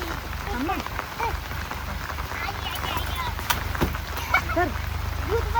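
Heavy monsoon rain pattering steadily on the ground and an umbrella outdoors in muddy conditions, a dense continuous hiss with people talking over it.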